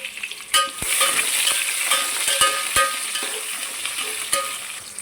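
Sliced onion and green chillies sizzle loudly in hot oil with a bright, constant frying hiss, punctuated by several sharp clicks of a spoon stirring against the pan.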